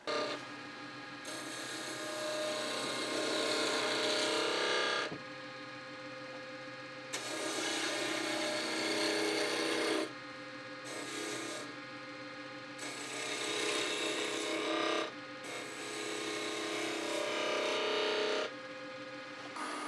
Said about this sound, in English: Of course, the spindle gouge excels at turning coves as shown here.